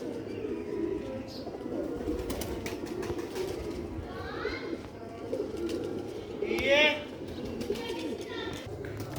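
Pet pigeons cooing in a loft, soft repeated coos with occasional chirps and wing sounds over steady background noise, while someone talks throughout.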